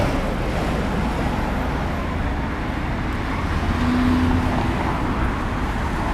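A car drives past on a street in Osaka, Japan, amid steady roadway traffic noise, with no sharp acceleration.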